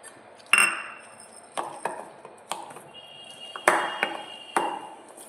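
A spoon clinks and scrapes against a dish while homemade khoa kheer is stirred into a mixture, giving several sharp, close metallic taps spaced irregularly over quiet.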